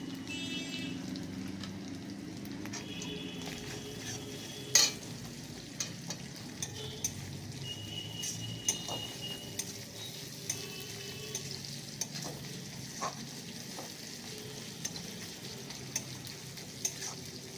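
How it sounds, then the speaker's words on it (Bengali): Onion frying in a pan with ginger and garlic, a steady sizzle with repeated scrape-and-clack strokes of a spoon stirring at close range, no voices. "এটা আদা রসুনটা হয়ে গেছে, পেঁয়াজটা দিয়ে দিলাম।"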